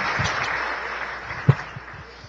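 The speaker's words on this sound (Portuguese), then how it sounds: "Vamos aplaudir o Senhor." A church congregation applauding during an evening Foursquare Gospel service in Taquaritinga, with a soft, even hiss of clapping and one sharper clap standing out.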